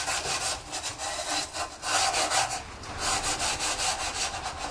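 Vigorous rhythmic scrubbing of grease from oven edges, a harsh abrasive rasp repeating back and forth in quick strokes, close up and continuous.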